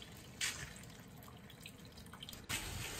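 River snails rinsed in clean water, faint splashing and sloshing with two brief louder bursts of water near the start and end, quiet and close.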